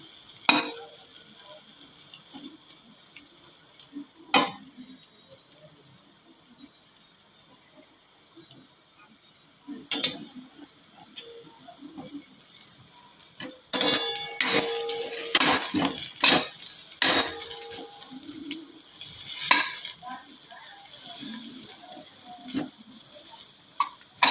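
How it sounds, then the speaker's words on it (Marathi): Leafy phandi bhaji roasts in a pan under a quiet, low crackle, broken by occasional sharp clinks of a utensil against the pan. The clatter and scraping grow busier and louder toward the end. "कडक खरपूस वास येईपर्यंत भाजू द्या"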